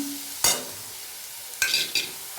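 A pan of spiced banana-stem mash (thor bharta) being stirred, giving three short scraping strokes spaced out over a quiet background, close and moderately soft.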